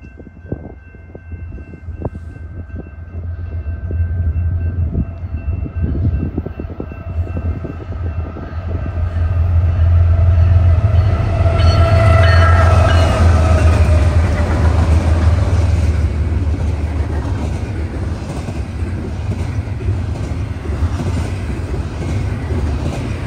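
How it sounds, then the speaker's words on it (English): A BNSF westbound double-stack freight train with 386 axles rumbles past on the Chicago Sub, starting with a low growl, building to a loud, steady roar of rolling wagons, then easing slightly while it keeps passing. "Westbound stacker, 386 axles."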